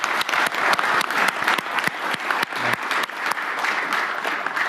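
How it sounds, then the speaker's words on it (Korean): Sustained applause from people seated at a national cabinet meeting, thanking donors after a record fundraising total; steady, dense clapping that fills the room from start to finish with no talk over it. "우리 참여해 주신 분들한테 감사의 박수를 한번."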